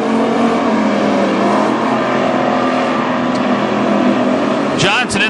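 Race cars lap Granite City Speedway during heat races, producing a loud, continuous engine roar that rises and falls slightly as they circle, while an announcer talks over it.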